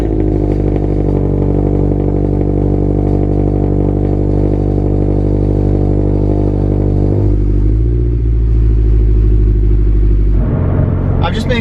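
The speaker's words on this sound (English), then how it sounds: "gonna do a cold start and then warm it up and then do some pulls" Cold start of a Toyota GT86/FRS/BRZ fitted with a Speed Factory unequal-length catted header: a steady, loud, deep rumbling idle held close by, the pitch dropping slightly near the end before a brief rev-like burst.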